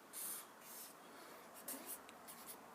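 A pen sketches a diagram of a synthesizer setup, with faint scratchy strokes in short bursts and pauses against quiet room noise.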